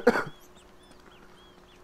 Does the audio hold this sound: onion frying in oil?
no